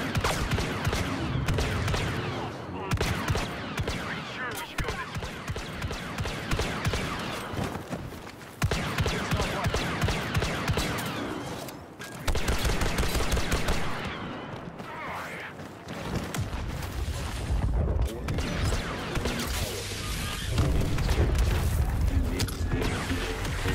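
Blaster fire during a Han Solo match in a Star Wars video game, bursts of rapid shots and booms with mechanical clanks and footsteps, loud and close, repeating throughout with game voices mixed in.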